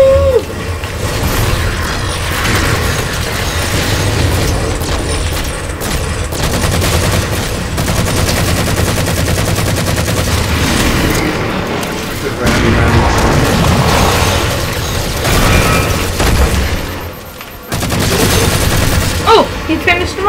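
Gunfire from the video game Halo MCC: dense bursts of automatic fire, booms and explosions go on almost nonstop, loud and close, with a few voices faintly audible in the mix.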